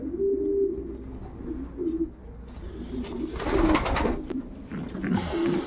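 Show pigeons coo softly in a loft, repeated low throaty calls from several birds close by, with some fluttering and shuffling noise partway through.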